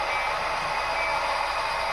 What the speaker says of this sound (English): So let's follow the train around the office.